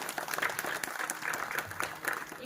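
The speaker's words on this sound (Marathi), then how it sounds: "एकदा जोरदार टाळ्या वाजवायच्या" An audience at a kirtan gives a burst of steady, moderately loud applause that holds evenly for a couple of seconds, with faint voices mixed in.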